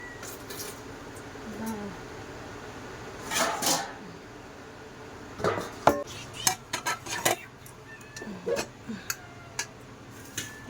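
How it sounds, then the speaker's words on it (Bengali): Rice served onto a metal thali with a spoon, heard as scattered scrapes and clinks, a few close metallic taps and knocks arriving in brief clusters over a quiet room background. "আর এই যে ভাত বাড়বো এক থালায় এখন।"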